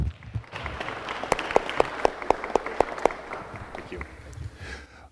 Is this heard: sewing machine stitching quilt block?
no